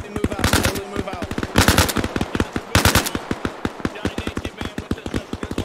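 Rapid automatic gunfire in the online military game Arma Reforger during a night-time urban militia battle, with sustained bursts of loud, close shots and shorter sharp volleys between them, while radio-style voices talk over the fire.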